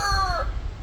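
A chicken gives a short, close, bright call that bends downward and fades within half a second, leaving low background rumble.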